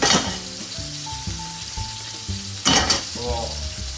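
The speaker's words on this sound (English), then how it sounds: "I'm just going to fry that, give that 5-spice a bit of a" Five-spice powder sizzles loudly in a hot pan, a steady close frying hiss broken by a few sharper crackles and stirring scrapes, with no voices.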